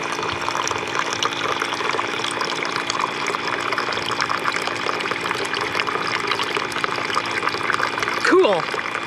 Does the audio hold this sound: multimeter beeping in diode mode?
no